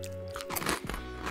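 A single loud, sharp crunch of teeth biting into a soy sauce flavored Japanese rice cracker, followed by brief close chewing noise, heard alone.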